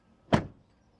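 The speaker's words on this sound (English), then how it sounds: "the door closing sounds, we forgot that" The door of a BMW iX3 shuts with a single short, solid thunk, close and clear against an otherwise quiet background.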